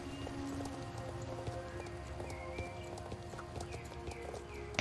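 In the video game Star Stable, a Percheron horse trots with a quick, regular clip-clop of hooves, moderately close, while a steady game ambience plays beneath.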